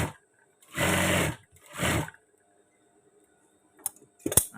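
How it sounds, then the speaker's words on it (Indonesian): Sewing machine stitching the lower pocket edge of trousers, two short bursts of motor whir about a second each, followed by quiet and a few light clicks near the end. "Dan di sini juga kita jahit bibir saku bawah."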